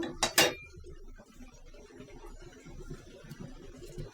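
Bengali home cooking: vegetable stems tipped into a pot of boiled pumpkin-leaf dal, a sharp clatter of pot and utensil up front, then soft rustling and bubbling of the pot at close range.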